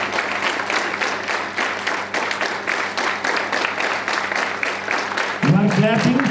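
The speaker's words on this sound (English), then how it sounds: "You are clapping for your betterment, not for others." Students at a school assembly clap together in a loud, rough wash of hands that runs for several seconds, then stops as a voice begins speaking.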